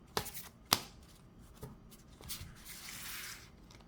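Tarot oracle cards being shuffled by hand: a few sharp riffling snaps near the start, then softer sliding and rubbing of the deck, close and quiet with no talking.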